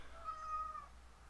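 A house cat lets out a single drawn-out meow, clear and fairly close, a steady tonal call lasting about half a second against a quiet indoor background.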